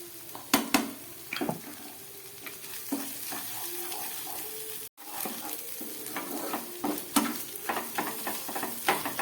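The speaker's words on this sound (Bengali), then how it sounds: "মশলা প্রায় ভাজা হয়ে গেছে।" Spices including dried chilli and ground black pepper fry in a pan for a potato, cauliflower and pointed gourd curry. The hiss is continuous, with repeated scraping stirs and a brief cut midway.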